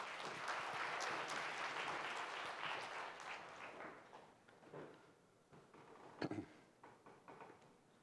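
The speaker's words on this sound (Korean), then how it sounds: "네, 박수로 맞이해 주십시오." Audience applause at a 2022 design forum welcomes architect Vincent Callebaut to the stage. The sound is fairly quiet, fades out after a few seconds, and is followed by a near-silent stretch with a few soft knocks and thumps.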